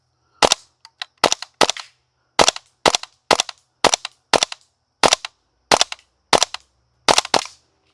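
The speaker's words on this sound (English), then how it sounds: "We're going to go for 1 shot a pop in 3, from the left to the right completely." WE L85 gas blowback airsoft rifle firing: about a dozen sharp, loud, close cracks, mostly single shots with some doubled, spaced irregularly about half a second apart, with no talking.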